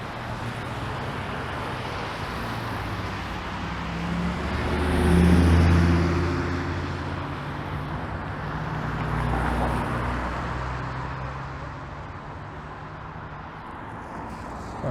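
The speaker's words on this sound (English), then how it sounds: "These cars are turning north onto the Allen Road." Cars turning north onto the Allen Road in Toronto in November, a steady roar of traffic with two louder swells as vehicles pass close, wind buffeting throughout and no talking.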